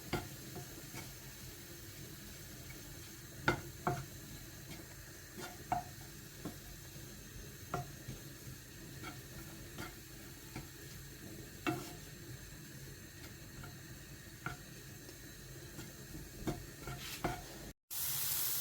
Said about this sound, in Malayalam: എന്നിട്ടൊന്ന് ഇളക്കി കൊടുക്കാം.